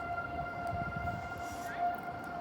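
Tornado sirens wail steadily during a thunderstorm, a sustained distant tone holding under the rumble of wind and rain, with a brief rise near the end.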